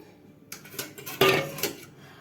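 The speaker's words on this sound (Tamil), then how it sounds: "இப்போ வந்து கருப்பட்டி போட்டு நான் வந்து மிக்ஸ் பண்ண போகிறேன்" Palm jaggery being stirred into a pot while preparing vattalappam, heard as a few scattered clinks and scrapes of a utensil against metal, moderately close, with no talking.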